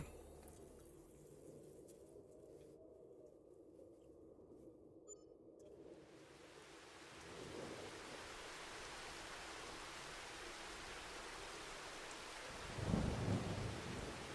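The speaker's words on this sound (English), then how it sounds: "Why is it raining?" Rain hisses steadily in a farming video game, with a soft, low thunder rumble near the end.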